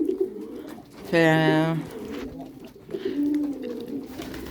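Pigeons coo softly and repeatedly in a bird enclosure. A person speaks over them and a louder tonal voice-like burst stands out briefly.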